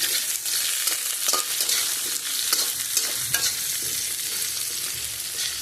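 Potatoes frying in hot oil in a pan give a steady, loud sizzle, with scraping stirs and occasional sharper pops and crackles throughout.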